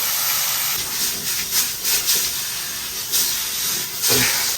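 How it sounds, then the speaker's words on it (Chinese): Scored pork belly sizzling in a dry pan with nothing added, a steady loud hiss and crackle throughout with brief louder spits, no talking. "锅中啥也不加，直接下肉。"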